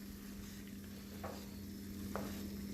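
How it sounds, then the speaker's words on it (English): Pork rib trimmings and onions frying in a cast iron pan on a Camp Chef Explorer camp stove, with a steady low sizzle and a couple of brief scraping stirs, no talking. "You still see some pink in the pork. Just stir it around."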